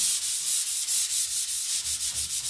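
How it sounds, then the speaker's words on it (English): Steady rhythmic hand sanding of chalk-painted furniture to smooth it, a close raspy scrubbing stroke back and forth at an even pace. "So again, I'm just sanding it"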